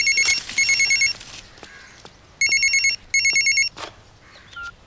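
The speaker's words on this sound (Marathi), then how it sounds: "आता कोणाचा फोन आहे?" A telephone rings in a few short repeated bursts at a steady pitch, separated by pauses, fairly loud and near, with faint room noise in between and no talking.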